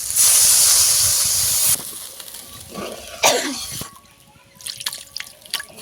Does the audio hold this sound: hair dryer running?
no